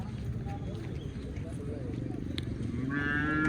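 Cattle lowing at a new cow market in Vavi, Sinnar, with a low, drawn-out moo rumbling beneath nearby talk and crowd noise.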